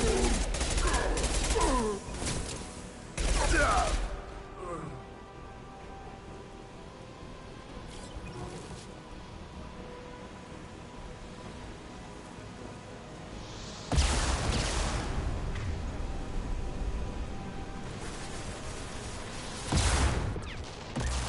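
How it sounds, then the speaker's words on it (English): A concussive shot fires in the Mass Effect 2 video game: a few loud, bursty blasts come in separate clusters early on and again near the end, over a steady background of low game ambience. "Firing concussive shot."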